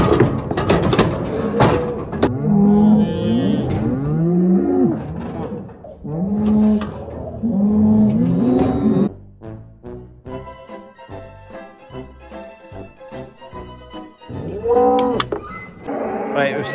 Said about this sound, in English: The cows are absolutely howling. They are roaring.